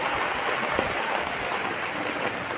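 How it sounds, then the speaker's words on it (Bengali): Continuous rain pours down in a steady, dense hiss that stays near and loud throughout, with no voices. "কাল থেকে তো বৃষ্টি হচ্ছে কন্টিনিউ"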